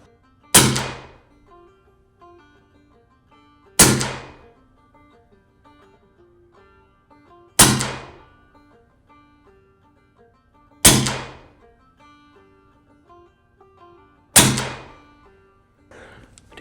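A Western Mordax Viper airsoft gun fires five slow, evenly spaced accuracy shots, each a sharp, loud crack followed by a short decay, with a faint start of another shot at the end and no talking.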